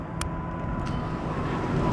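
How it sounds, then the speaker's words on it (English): Go-kart engines run at the Six Flags Over Georgia amusement park, a distant, steady motor drone with low rumble and outdoor background noise throughout. "There's the go-karts right there."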